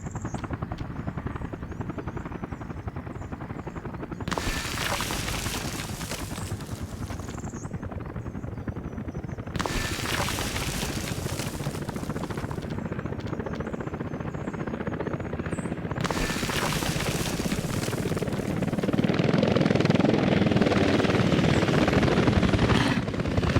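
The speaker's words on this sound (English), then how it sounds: "Helicopters are around. We can tell from the incredible noise that they make." Loud helicopter rotor thrum in the video game Workers & Resources: Soviet Republic, with heavy broadband bursts swelling and fading repeatedly as if passing overhead, steady and close throughout.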